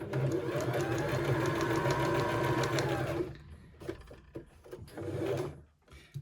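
A sewing machine stitches around the pocket of a tiered maxi skirt, a fast steady whir for about three seconds, then stops and restarts in short bursts with clicks of handling.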